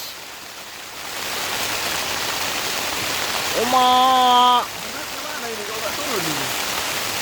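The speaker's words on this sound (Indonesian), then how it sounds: "Hujan deras ini." Heavy rain drums steadily as a broad hiss during a truck drive, a rough wet wash that never lets up while a voice briefly cuts in over it.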